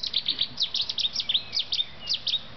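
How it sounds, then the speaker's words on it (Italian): A chaffinch sings outdoors in a series of bright, quick chirps and trills, repeated in short bursts at moderate distance over a quiet background. "senti il fringuello"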